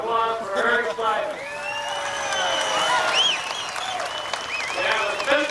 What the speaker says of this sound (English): How about a nice round of applause for Eric Slam?